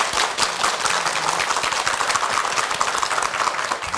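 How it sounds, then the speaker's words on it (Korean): A TV studio audience claps for a family on a Korean talk show, a continuous dense patter of applause at moderate volume without talk. "하하 패밀리 앞으로도 웃을 일만 많으시라고 박수 한번 보내드리죠"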